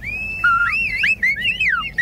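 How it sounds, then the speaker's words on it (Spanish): A cartoon mole whistles a quick, chirpy run of sliding high notes, rising and falling in a playful, bird-like pattern, loud and close with no talking. "Lo único que saben es silbar."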